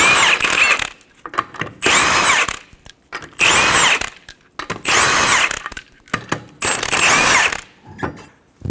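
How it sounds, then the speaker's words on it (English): Bursts from a power impact tool spinning off the 21mm lug nuts on a 2014-2019 Toyota Highlander rear wheel, five separate whirring runs of about a second each with short gaps, loud and close, no talking. "Remove the 5 21mm lug nuts."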